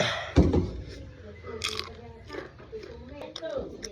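Biting into crunchy mango: one loud, close crunch near the start, followed by softer chewing and munching while a person talks.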